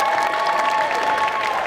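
A dense crowd applauds during a cosplay contest and catwalk at a geek convention. The wash of clapping is steady and fairly distant, with no pauses across the short stretch.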